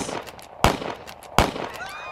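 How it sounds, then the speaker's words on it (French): Two sharp gunshots, evenly spaced and loud, each with a short echoing tail, followed by a faint high whine. "Vers 12h30, des coups de feu retentissent."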